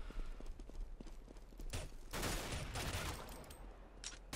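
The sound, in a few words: pistol gunfire in the video game CS:GO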